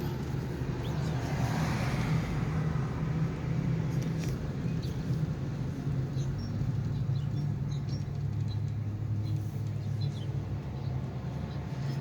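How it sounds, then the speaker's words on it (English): Chevrolet Camaros with a decorative wrap pull away outside a theater in Branson, Missouri, a steady low engine rumble holding throughout amid broadband traffic noise. "a couple of their cars pulling away. They drive those Camaros with that really pretty wrap"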